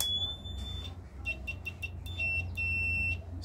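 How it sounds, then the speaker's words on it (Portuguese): Faint, high-pitched electronic beeps from a multimeter continuity test during a microwave oven repair, in short, intermittent bursts of varying length over a low hum. "Um teste do bip aqui"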